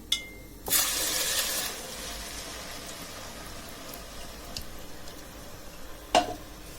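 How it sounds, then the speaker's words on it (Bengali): A blended spice paste with salt hits hot oil in a pan, giving a loud burst of sizzling that settles into a quieter steady fry, with a sharp clink of a utensil near the end. "তেল গরম হয়ে গেছে, এখন আমি ব্লেন্ড করে রাখা মিক্সারটা দিয়ে দিব"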